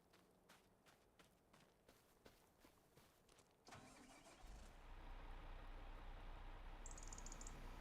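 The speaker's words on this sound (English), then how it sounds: "leave my tractor running and let it fold?" In Farming Simulator 25, a series of light clicking taps gives way to a tractor engine cranking into life, which then settles into a steady, droning idle.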